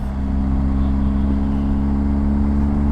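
A BMW R 1250 GS motorcycle with a quick shifter runs through the gears, giving a steady, close, humming engine drone that plays alone without any voices.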